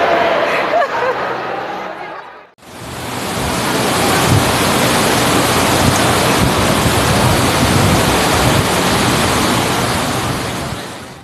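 Heavy rain roars steadily and loudly over Medellín, Colombia, a dense hiss that starts abruptly after a short quieter moment and continues without pause.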